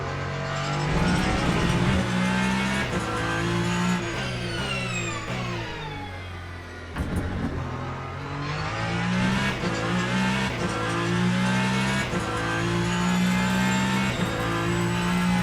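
Hypercars roaring around Le Mans at night in the Le Mans Ultimate racing game, engines droning and revving loudly and continuously, pitch rising and falling through gear changes, with a brief dip around the midpoint.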